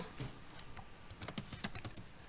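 Keys clack on a computer keyboard during a SQL database session, a run of close, crisp taps with a few sharper strokes, steady and unhurried over a quiet room background.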